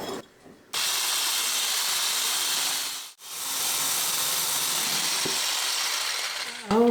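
A Hamilton Beach immersion blender with its whisk attachment whips an almond macaroon mixture toward stiff peaks. It gives a loud, steady whirring hiss that starts after a short quiet moment, dips briefly midway, then runs on continuously.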